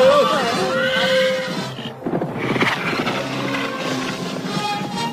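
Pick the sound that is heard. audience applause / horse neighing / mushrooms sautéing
horse neighing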